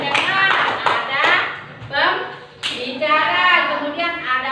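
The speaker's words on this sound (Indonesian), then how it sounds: "Tepuk tangan untuk Ica." A school class claps for a classmate, with a few loud, sharp clap bursts spaced among children's voices, which carry through most of the moment.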